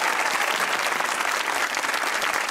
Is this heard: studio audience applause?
yes